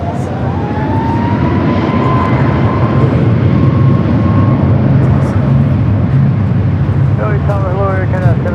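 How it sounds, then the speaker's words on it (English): A United Boeing 787-9 Dreamliner arriving at LAX roars loudly and steadily nearby as a broad engine rumble with whining tones, while voices talk over it throughout. "United Flight 2238 coming from Newark is 787-9 Dreamliner."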